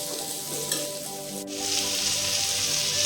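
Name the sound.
potatoes frying in a pan for fish curry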